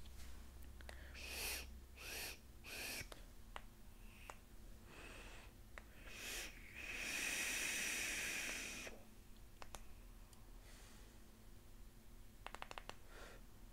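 An e-cigarette set to 40 watts with open airflow and a 0.38-ohm coil gives a steady, close breathy hiss for about two seconds mid-clip, framed by scattered faint clicks and handling noises, with no talking.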